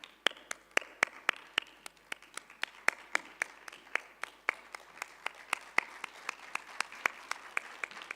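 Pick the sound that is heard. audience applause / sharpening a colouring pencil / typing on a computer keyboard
audience applause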